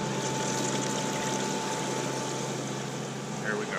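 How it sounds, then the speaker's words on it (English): Water poured into a Hayward Superpump pool pump to prime it makes a steady rushing gush, with a faint tonal hum running underneath throughout. "all you got to do is fill this with water"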